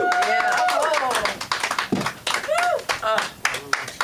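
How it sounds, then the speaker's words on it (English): Audience clapping at a comedy show in Los Angeles, a burst of hand claps mixed with cheers and whoops, heard close and lively under overlapping voices. "Give yourself a round of applause"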